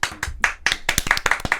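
Several quick rounds of hand claps from a few people, close by, in a lively irregular rhythm with brief voices mixed in.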